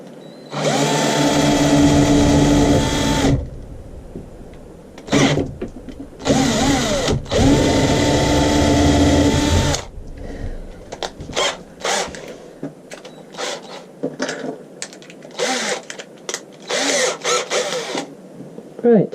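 Power drill driving wood screws into a resin casting mould, long loud whirring bursts that rise and settle, followed by shorter choppy zips and clicks as the screws seat.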